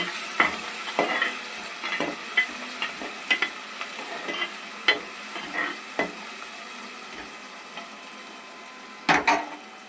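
Onions fry in oil with bay leaves and salt for a chicken curry, a steady close sizzle with scattered scrapes and taps of a spoon stirring the pan.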